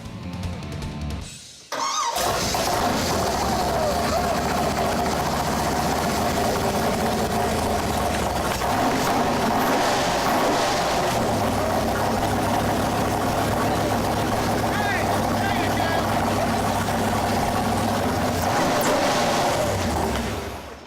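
A newly installed Yenko muscle car V8 fires up after a short silence and settles into a loud, steady idle that runs close and continuous, with voices talking over it.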